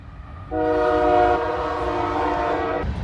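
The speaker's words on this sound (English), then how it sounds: "Here comes the train." A train horn blares steadily for a couple of seconds over the low rumble of a passing train, fairly loud and close, then cuts off, heard from beside a 1989 Ford Mustang GT.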